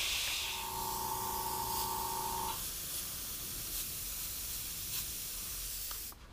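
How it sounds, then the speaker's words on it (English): Golden airbrush spraying paint during a head repaint, a continuous close hiss of air and spray that runs almost the whole time, with a steady tonal hum early on before cutting off near the end. "just using what I got, golden airbrush"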